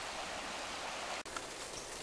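Steady broadband rush of a low-running river through Glen Esk near the Rocks of Solitude, an even continuous wash of water heard fairly close with no talk over it.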